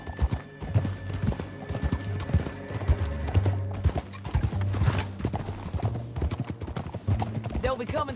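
Horse hooves clip-clop in a steady galloping rhythm in Red Dead Redemption 2, with occasional whinnies and a voice talking over the game sounds and music throughout.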